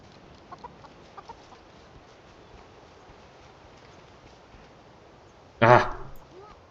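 Faint, scattered chicken clucks in the Guild Wars 2 video game, then one sudden loud squawk near the end.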